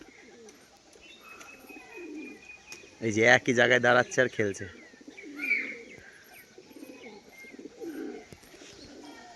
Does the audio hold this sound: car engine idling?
no